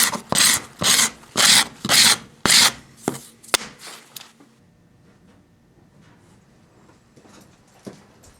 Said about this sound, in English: it's good enough to tape up one side to protect your fingers and use as a scraper